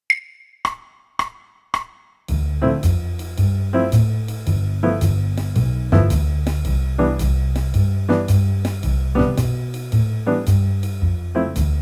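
A few sparse clicks, then steady guitar chord strums comping on the 1-and and 3-and in a swinging, evenly repeating rhythm under a walking bass line, played clearly and close.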